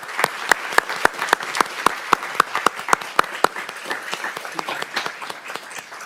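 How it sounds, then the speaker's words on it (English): Audience applause at a city council meeting honoring a local teen titleholder: a few loud, evenly spaced individual claps up front, then a denser patter of many hands carrying on steadily, fairly close. "So let's give her an applause."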